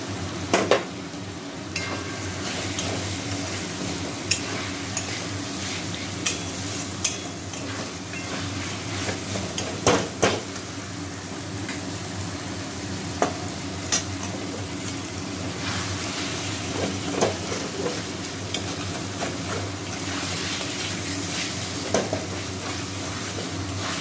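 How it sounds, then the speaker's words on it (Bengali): Chopped onions fry in a pan for chicken curry, with a continuous sizzle and repeated scraping stirs and light clinks of the utensil throughout. "কিছুটা ভাজা হয়ে যাওয়ার পর আমি কাটা পেঁয়াজগুলোকে"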